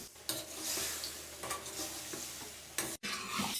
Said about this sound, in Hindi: अब हमने जो गोश्त बॉईल किया था वो डाल देंगे। अच्छे तरीके से भुनेंगे।